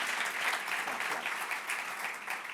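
Steady applause from a conference audience at an artificial intelligence summit, a dense continuous patter of many hands clapping at moderate level, with no voices standing out.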